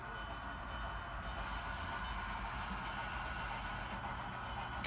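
An HO scale model Union Pacific train runs on a home layout, giving a faint, steady rolling rumble and soft hiss with no voices.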